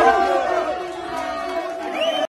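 A hostile crowd of protesters in Troyes during a 18 September strike demonstration, many voices chanting and shouting together at close range, loud and sustained, cutting off abruptly at the end.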